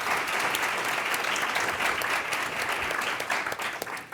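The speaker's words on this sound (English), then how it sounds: "if we could just give them a round of applause and thank them all" A panel discussion audience claps steadily for its panelists, a dense, sustained wash of applause at close range that tapers slightly near the end.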